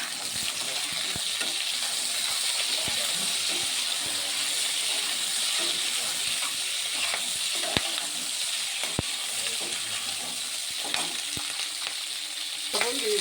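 Potatoes and chillies fry in a pan with a loud, continuous close sizzle, broken by occasional sharp clicks and scrapes of stirring.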